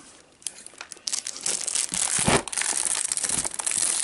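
Plastic wrapping on a Pokémon trading card display box is torn and crinkled open by hand, close up, producing a continuous, busy rustle of crackles and crunches that grows denser over a few seconds.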